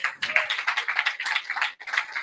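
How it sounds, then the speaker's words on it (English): An audience applauds at a music ministry class: a short, uneven burst of clapping from a small group that briefly drops out near the end before picking up again. "Let's give an applause for that as well."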